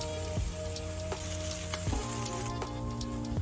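Salmon sizzling steadily on a grill with a lime butter dish in progress, the hiss continuous and close, with a few sharp scraping clicks as a spatula flips the fillet.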